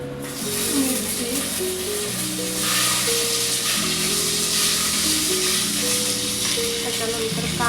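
Green chili frying in hot oil with ginger garlic paste for khichdi, a steady close sizzle that runs throughout beneath sustained background music tones.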